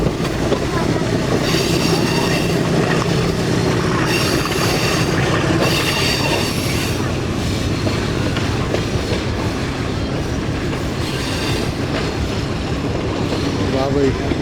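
A passenger train on the Rawalpindi to Havelian line rolls steadily past Haripur Hazara station, loud and continuous rumble with metallic wheel squeal and rail clatter throughout, heard from on board.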